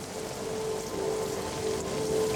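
Steady rain falls on a winter afternoon as a radio drama effect, a soft continuous hiss of drops spread evenly throughout with a faint tonal hum underneath, no voices.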